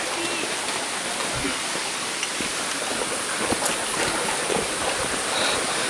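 A river stream rushes steadily near a waterfall in rural Subang, a dense, constant wash of water noise close by with no talk.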